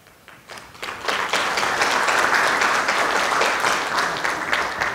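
Sustained applause from a seated audience at the inauguration ceremony of a Korean unification advisory council chapter in New Zealand, building quickly from a few claps into steady, dense clapping that fills the room.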